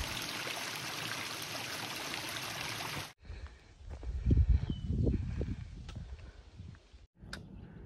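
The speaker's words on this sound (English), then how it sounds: "You may be thinking, wow, look at that creek." Water runs down a rocky trail on the Appalachian Trail like a creek, a steady rushing flow that cuts off abruptly, followed by quieter trickling, nearby footsteps and rustling.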